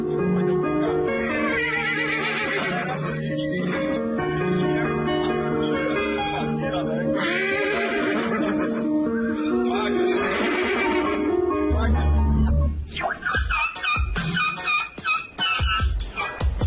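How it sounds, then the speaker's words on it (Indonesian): A horse gives several long, wavering whinnies, drawn-out and mournful, spaced apart, followed by rougher snorting and shuffling noises near the end. "Suara rintihan sedih dari kuda ini"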